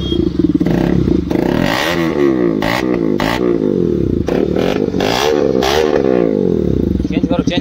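A KTM RC 200 motorcycle fitted with a full-system bend-pipe racing exhaust runs close by, a loud, raspy, continuous engine drone that wavers and swells in pitch throughout, with voices mixed in.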